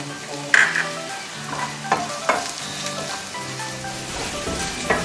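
Onions sizzle and crackle in a pan for bopis, with a spoon scraping and stirring in uneven strokes and a few sharper clinks, close and alone without talk.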